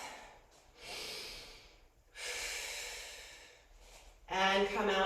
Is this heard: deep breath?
yes